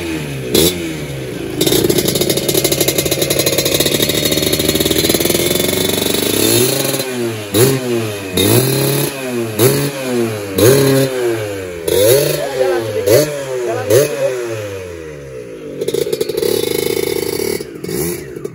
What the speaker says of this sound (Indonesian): Sekarang kita coba hidupin nih ya untuk Vespanya nih.